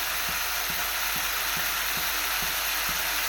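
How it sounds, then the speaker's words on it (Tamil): Onions sauté for a drumstick poriyal, a steady loud sizzle and fry in the pan with faint regular stirring scrapes about every half second, no voices. "வெங்காயம்லாம் பாருங்கள் நல்லா வதங்கிடுச்சு"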